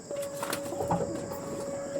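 Pigeons of fine breeding quality cooing softly at middle distance, a few low murmuring calls over a faint steady background hum, no talking.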